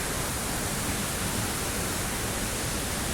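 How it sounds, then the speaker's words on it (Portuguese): The Paracupebas waterfall at Barra Nova, Redenção, Ceará, pours in a dense, loud, unbroken rush of falling water, close by and alone with no voices. "Aqui é as cachoeiras das Paraqueba em Redenção."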